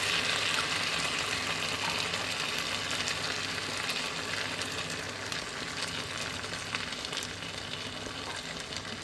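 Sauce for chicken and bacon tagliatelle hitting a hot pan, a continuous broad sizzle and hiss that stays fairly steady and gradually eases, with no talking.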